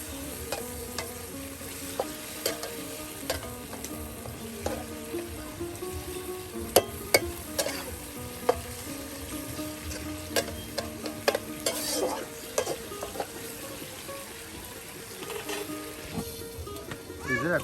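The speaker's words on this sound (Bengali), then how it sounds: "এই যে মাংসগুলো বেশ সুন্দর করে কিন্তু কষানো হচ্ছে" Chicken pieces are braised with spices in a pot, with steady low sizzling and irregular stirring clacks and scrapes of a spoon against the pan at a village Eid gathering, while people talk nearby.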